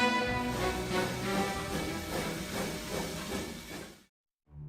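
Steam locomotive hissing loudly as it comes to a stop, a dense continuous steam rush with a faint whistle-like tone, then cutting off abruptly into brief silence before a short renewed burst.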